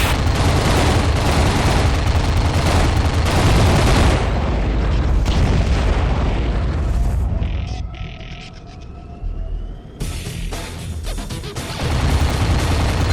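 A destroyed target explodes in the underwater Aquanox video game, a loud sustained rumbling blast that rolls on for several seconds, then fades into quieter whooshing game sounds before another swell.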